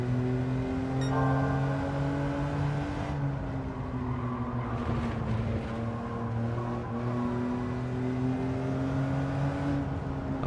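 A car engine drones in the Gran Turismo racing game, a steady sustained tone whose pitch dips and climbs through gear changes, loud and continuous with no speech.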